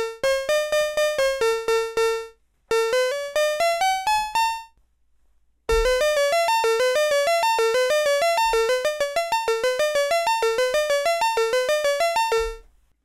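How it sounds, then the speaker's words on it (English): Modular synthesizer patch, a pulse wave sent through a VCA and into a mixer, producing bright, bell-like plucked tones in rising stepped sequences, pausing twice before a long, fast rhythmic run of repeating notes. "And this is what my synth sounds like."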